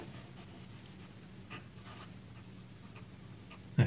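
A fine-nib Pelikan fountain pen scratches softly and steadily across squared Pigna paper, a faint continuous rasp with slight strokes, ending in a brief louder bump.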